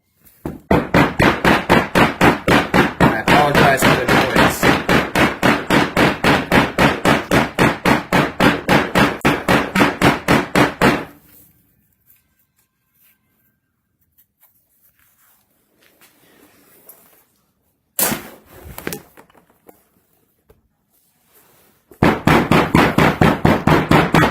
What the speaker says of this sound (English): we're taking the old grandpa hammer, and I'm going to just lift this strap up